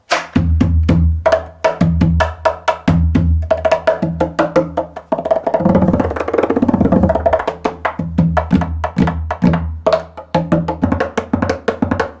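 A cajonico, a cajon-bongo hybrid hand drum with snares, is played in a busy, steady rhythm, deep bass thumps mixed with snare-like rattles, close and loud without pause.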